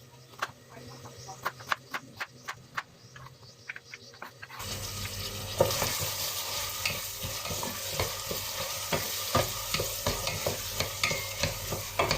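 Carrots sizzle and fry in a pan while a utensil repeatedly scrapes and stirs, steady crackling with rhythmic clicks, close up and without talk.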